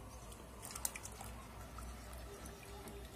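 A cocoa salep mixture poured into hot milk in a pot, a short run of soft drips and splashes near the start, then a low steady wash of liquid, close and quiet.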